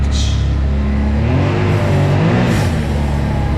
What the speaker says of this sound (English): Just got that blow-off valve installed. NiceCNC, you can hear it back there.